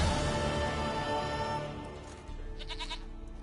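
A goat bleats in The Witcher 3: Wild Hunt, a short wavering cry that follows steady ambient game sound, near and fairly clear, with no talk over it.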